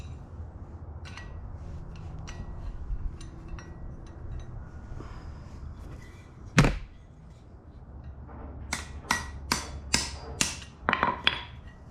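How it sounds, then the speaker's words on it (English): A 16mm wrench taps an oil pickup into place under an old C3 Corvette: a low workshop hum, one sharp metallic strike, then a quick series of ringing taps, close by. "You can tap that on in with a 16mm."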